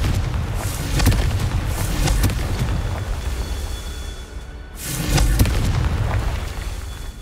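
Confringo fire spell blasts in the game Hogwarts Legacy, two loud rumbling explosions each rolling out for a couple of seconds, with no speech over them.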